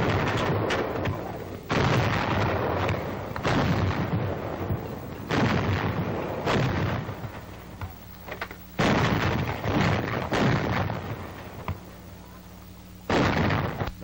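Heavy coast artillery guns fire in a 1942 military test, a long series of loud booming blasts with rolling echoes, spaced a few seconds apart and sounding alone.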